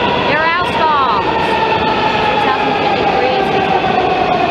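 Eight-car Shady Grove metro train with Alstom railcars rolling through a station, a loud, close, continuous rumble with a squealing high tone near the start and a steady whine throughout.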